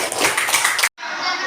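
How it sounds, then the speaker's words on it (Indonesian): Schoolchildren clap together in a classroom as the session wraps up, a dense, even patter that stops abruptly for a split second before resuming slightly softer. "Kasih tepuk tangan buat semuanya."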